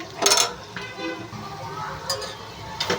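Onions fry with a soft sizzle in a pan for mango and raw prawn curry, while a spoon clinks and scrapes against the metal a few times, close and clear.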